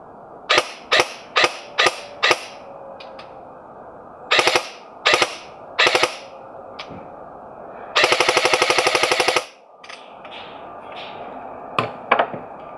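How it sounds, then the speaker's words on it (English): ASG Scorpion Evo 2018 revision airsoft gun shooting: crisp single shots in quick separate pops, then a sustained full-auto burst of rapid mechanical cracks, followed by a few more scattered shots, loud and close with no voices. "The 2018 does sound slightly crisper, the gears are slightly tied together, and you can hear that in the shooting."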